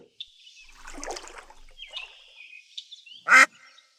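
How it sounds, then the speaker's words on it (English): A duck quacks in a few short, scattered calls, ending with one loud, sharp quack, over a quiet background. "Quack, quack."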